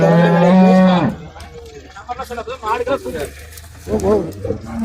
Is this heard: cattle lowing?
yes